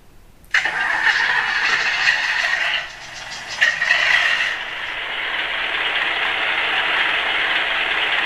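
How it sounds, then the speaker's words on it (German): A USM-RC-2 RC sound module plays a simulated engine start that cuts in abruptly and then settles into a steady, buzzy idle, with a brief dip and surge partway through and no talking. "Und schalten über den Schalter das Motorengeräusch an."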